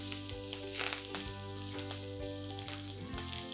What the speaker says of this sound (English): Stir fry all these ingredients for a few seconds.